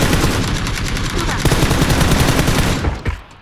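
Rapid automatic gunfire in the PUBG video game, dense and loud, continuing for about three seconds before tapering off.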